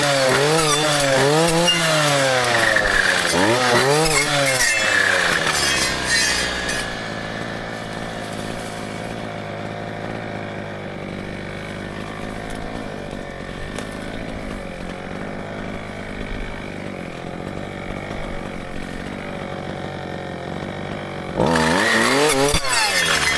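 A brushcutter cutting through a thick stem, the engine revving up and down with a rising and falling whine at first, then settling into a steady loaded drone before revving high again near the end.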